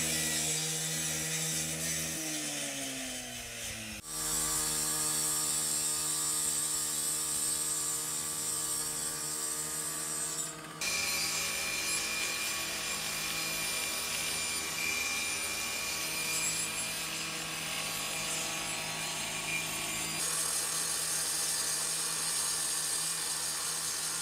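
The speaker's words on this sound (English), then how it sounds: "The recruits are working on power tools." Power saws run continuously, a steady whining mechanical drone with abrupt changes in pitch as cuts start and stop, loud and close, no voices, on a fire academy drill ground.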